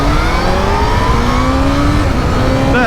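A Kawasaki Z H2 motorcycle accelerating hard on a timed run, its engine note rising loud and close through the gears in one continuous surge with no talk.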